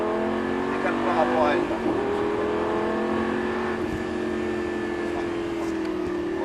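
Lamborghini LP560-4 accelerating on a race track during a driving course, its engine note rising steadily as a loud, close drone beneath continuous talking in the cabin.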